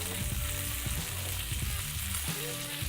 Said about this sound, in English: We're gonna give this another stir.